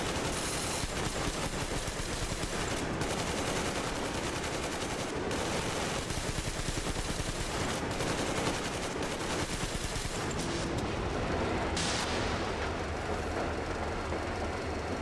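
In the game Metro Exodus, a machine gun fires off a full belt in one long, continuous, rattling stream that stays loud and dense throughout, with faint mechanical clatter near the end.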